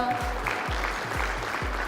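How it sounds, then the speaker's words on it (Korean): An audience applauds in celebration at a company's stock listing ceremony on the Korea Exchange KONEX market, a dense, steady clatter of hands over a regular low thumping beat. "큰 박수로 축하해 주십시오."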